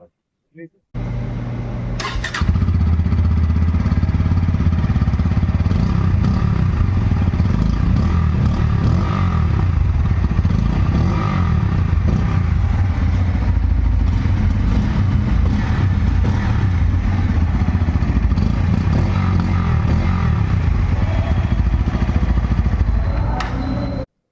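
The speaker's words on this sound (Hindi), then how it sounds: "तो अब मैं आपको सुनाता हूँ इस बाइक का एडजॉस्ट नोट।" A Bajaj Pulsar N160 motorcycle engine starts and then idles with a steady, throaty exhaust rumble, loud and close, holding for about twenty seconds.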